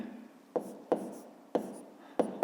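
Pen strokes scratching on paper while working a 5th-grade geometry exercise, heard as a soft continuous scribble broken by several sharp taps at irregular intervals, close and quiet with no talk.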